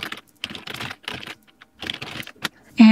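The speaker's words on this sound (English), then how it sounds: "So I'm gonna type that." Fingers type on a computer keyboard in short bursts of rapid clicking keystrokes separated by brief pauses, close and clear with no talking.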